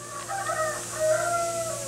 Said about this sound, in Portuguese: o galo cantando, minha sogra fala que quando o galo canta assim é sinal de chuva